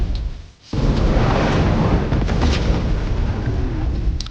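Huge nuke blast from a weapon in the video game Blox Fruits, a loud sustained roaring rumble that erupts after a brief dip and stays dense and powerful for several seconds, with no talking.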